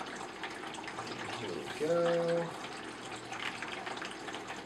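Tap water pouring into a container to mix with C-41 film stabilizer powder, a steady splashing stream under brief talk, with a short louder tonal burst midway.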